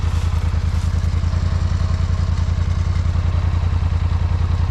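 Polaris Sportsman Highlifter 850 ATV engine running in mud, a loud close throbbing low rumble with rapid even pulses and a steady mechanical clatter, constant throughout with no talk.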